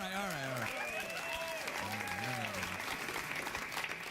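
A television studio audience applauds steadily and loudly throughout a late-night talk show, with people talking and laughing over the clapping.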